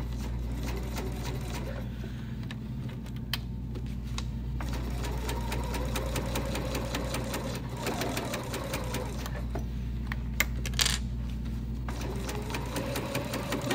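A sewing machine stitches steadily along a zipper while sewing a cosmetic project bag, a continuous close mechanical whirr with a low hum that runs throughout, with brief quiet voices in the background.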